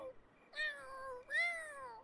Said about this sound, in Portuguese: Esse gato miou